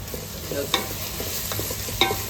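Food stirred in a frying pan with steady sizzling, broken by a few sharp scraping knocks of the utensil against the pan, close and moderately loud, with no talking.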